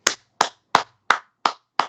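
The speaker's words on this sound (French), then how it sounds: "J'applaudis ça" Six crisp, evenly spaced hand claps ring out one by one, close and distinct with silence between each, in a slow steady rhythm.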